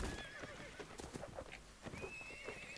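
A heavy horse neighs in the medieval combat game Mount and Blade: Warband, whinnying clearly over a steady rattle of hooves and battle noise, with a few quick, sharp strikes mixed in.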